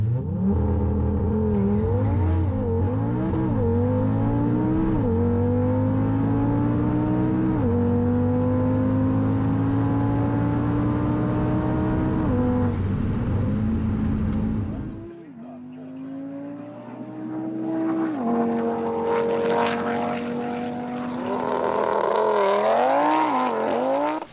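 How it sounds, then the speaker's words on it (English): Mildly modified all-wheel-drive Audi RS3 with dual clutch and launch control accelerating on a drag strip run, engine note climbing repeatedly through quick gear shifts, loud and sustained, then fading to a lower drone as a voice talks over it. "Jason in the mighty Audi RS3 was next. Only minor mods, but all-wheel drive, dual clutch, launch control and good tyres"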